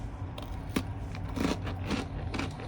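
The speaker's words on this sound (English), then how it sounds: "It's a pretty good cookie. Crunchy." Crisp crunching bites into a crunchy pecan chocolate chip cookie, a few sharp close-up crackles spaced out over a couple of seconds with no talking.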